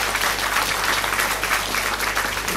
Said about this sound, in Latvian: Un šis ir tas brīdis, kad mēs varētu sākt ar skaļiem aplausiem